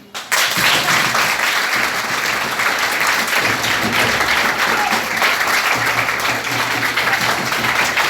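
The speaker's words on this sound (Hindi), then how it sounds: "तालियां" Loud, sustained applause from a large crowd at a Sahaj Yoga meditation session in a government senior secondary school in Islampur, Gurugram, steady and dense throughout, with a faint murmur of voices underneath.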